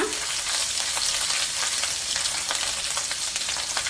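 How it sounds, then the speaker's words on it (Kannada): Garlic and freshly chopped ginger frying hard over a high flame, a dense steady sizzle close up with quick scraping stirs, no voices. "ಇದು ಸ್ವಲ್ಪ ಫ್ರೈ ಆಗಲಿ."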